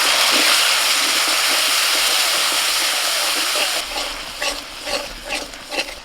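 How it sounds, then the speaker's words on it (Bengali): Spice paste of chilli powder and salt sizzles loudly in a pan after a splash of water is added, a steady hiss that eases after a few seconds into softer frying with rhythmic stirring scrapes. "সামান্য একটুখানি জল দিয়ে কষিয়ে নেব।"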